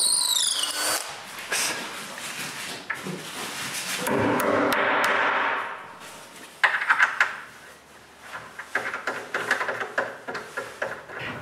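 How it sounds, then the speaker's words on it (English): A power drill whirs in several bursts, with a long steady grinding run in the middle as it bores holes into the center of cabinet legs, followed by scraping and knocking of wood nearby. "I drill a hole in the center of each leg for levelers"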